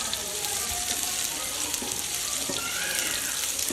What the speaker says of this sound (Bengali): খুব ভালোভাবে আমি ভেজে নেব, লাল হওয়া পর্যন্ত আমি খুব ভালো করে ভেজে নেব।